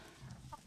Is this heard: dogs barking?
no